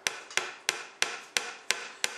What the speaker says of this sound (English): I'll grab a hammer. I'll very gently tap those in.